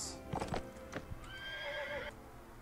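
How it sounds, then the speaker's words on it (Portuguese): In the Mount and Blade Warband video game, a horse gives a loud, high whinny after a few sharp hoof clops, all crisp and close with no talk. "Cavalo meu também tá mais manco"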